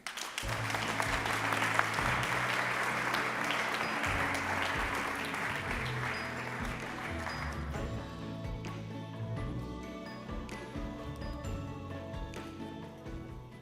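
An audience at a science and media awards ceremony applauds warmly as a speaker is welcomed to the stage, dense clapping at first that gradually thins and fades over about thirteen seconds.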